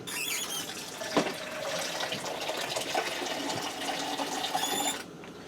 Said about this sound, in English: I'm going to put just enough water to come up to the top of the noodles